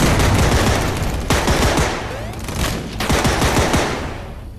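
Dense, loud gunfire rattles through a video game battle, with rapid machine-gun bursts and overlapping shots in a sustained barrage that barely lets up before easing near the end.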